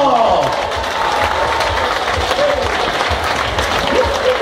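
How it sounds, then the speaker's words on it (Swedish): A Swedish live audience applauding, dense sustained clapping with a few cheers, while a presenter's voice rises over the crowd at the start. "Vi vill applådera publiken!"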